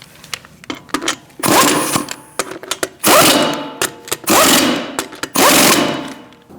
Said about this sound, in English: Start your lug nuts by hand. Now you can tighten them in a crisscross manner.